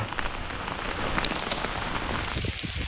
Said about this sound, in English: Oh, it's damn hailing now.